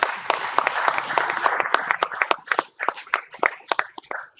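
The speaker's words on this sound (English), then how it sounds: "Give her a big hand." At a healthcare patient safety conference, a crowd applauds a speaker with brisk, scattered clapping. Steady at first, it thins into sparser, separate claps as it fades.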